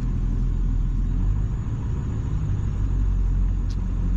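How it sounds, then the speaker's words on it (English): A swapped 7.3 Powerstroke diesel engine with tuned injectors idles with a steady, heavy, low rumble, close and continuous, with no talking. "So here's what that one sounds like. You can hear the idle change."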